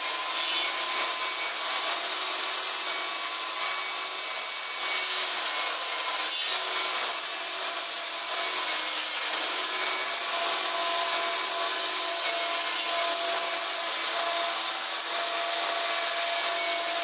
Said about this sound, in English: The next pieces we'll cut will be for the top of the crate, and they'll be inset into the sides.